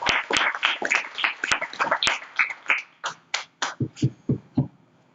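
Workshop attendees clap together in a burst of sharp, close hand claps that thin out toward a few scattered final claps, with no talk over them.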